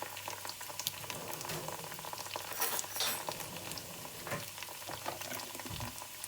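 Meatball curry frying and bubbling in a pan as a teaspoon of turmeric is stirred in, a steady close sizzle and simmer with faint stirring scrapes throughout.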